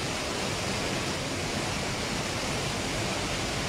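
The Nututun river near Palenque, swollen after a storm, roars as a dense, unbroken rush of water, loud and steady throughout, with no voices over it.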